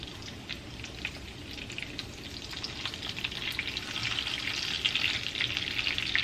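Food fries steadily in hot grease in a pan, a dense, even sizzle and crackle that holds close and builds slightly louder toward the end, with no voices.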